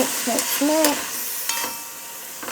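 Minced beef with broccoli and onions being stirred in a pan for noodles, with a few scraping strokes over a soft sizzle, close and moderately loud, with no talking.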